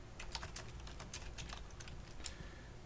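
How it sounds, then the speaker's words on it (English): Keys tapped on a computer keyboard in a quiet room, a run of light irregular clicks with a few louder strokes, close and soft against steady low background hum. "And then we'll type in a line break, go back and try again."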